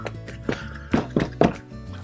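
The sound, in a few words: flicking excess water out of a paint brush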